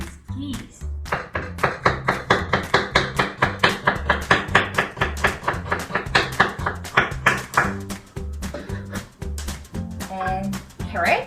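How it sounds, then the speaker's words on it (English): Knife chopping onion into thin slices on a cutting board for Korean stir-fried potato side dish, a steady run of close, crisp rhythmic taps for about ten seconds, slowing near the end. "So let's cut onion first."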